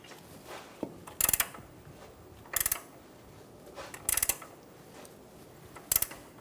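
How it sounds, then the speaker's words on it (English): An 18mm wrench snugs down the upper ball joint nut on a 2014-2018 Chevrolet Silverado 1500, producing four short bursts of quick metallic ratcheting clicks separated by quiet pauses. "Using an 18mm wrench, snug down the upper ball joint nut."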